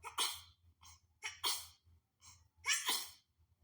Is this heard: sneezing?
yes